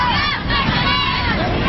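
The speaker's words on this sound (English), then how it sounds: "Time to get the crowd fired up here at Villanova Stadium" A stadium crowd roars and cheers at a Boston versus Philadelphia WUSA women's soccer match at Villanova Stadium, a steady, loud wash of voices and shouts that holds for the whole moment.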